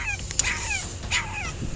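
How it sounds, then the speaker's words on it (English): A small dog trapped inside a parked car behind a slightly cracked window gives faint, muffled yips and whimpers, several short high calls over low background hum. "faint barks emanating from behind the car's slightly cracked window"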